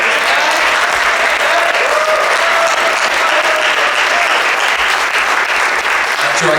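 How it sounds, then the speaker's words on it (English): Audience applause fills a jazz festival concert hall after a university jazz band's set with a guest saxophone soloist, a dense, steady clapping that holds loud and continuous throughout. "So please give your applause in that direction."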